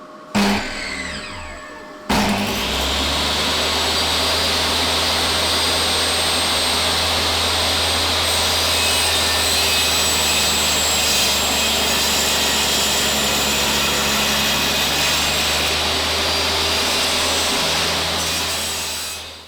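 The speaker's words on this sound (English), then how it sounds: "I'm going to cut that on the crosscut sled" A saw on a crosscut sled slices through a length of wood in one loud, sustained run of nearly twenty seconds, opening with a brief start-up and then holding a steady roar.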